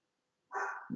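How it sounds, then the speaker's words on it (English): A dog barks once indoors, a single sharp bark followed by the start of another, close and fairly loud against an otherwise quiet room. "You have to excuse my dog from barking."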